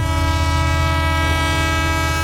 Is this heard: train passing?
yes